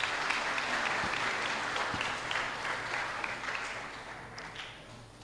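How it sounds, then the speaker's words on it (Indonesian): A church congregation at a Christmas morning service applauds steadily and fairly loudly, a dense wash of clapping that holds for about five seconds and eases slightly toward the end. "kita berikan tepuk tangan."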